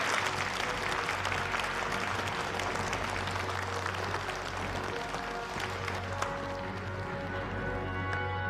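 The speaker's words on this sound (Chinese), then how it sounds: "掌声有请。" An audience at a corporate stage event applauds a speaker being welcomed, with dense, sustained clapping that fills the room at an even level throughout.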